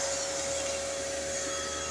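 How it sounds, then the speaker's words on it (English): Vacuum cleaner running on a 6000 watt SWI Power Xijia inverter, a steady loud whining motor drone with a constant tone that holds without change for the whole stretch. "Ready for that vacuum again?"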